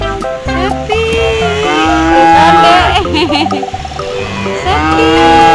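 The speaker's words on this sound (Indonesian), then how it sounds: "Sapi." Cattle at a farm moo repeatedly in long, loud, harmonic calls that fill the moment, close by, with no talk over them.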